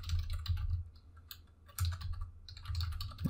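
Keystrokes rattle on a computer keyboard in short bursts with brief pauses between runs, close and moderately loud, with no voices.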